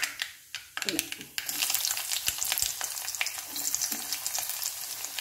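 Chopped shallots hit hot oil with crackling mustard seeds for a Kerala-style ginger curry, bursting into a dense close sizzle after a few spoon clinks, with scattered pops and stirring scrapes.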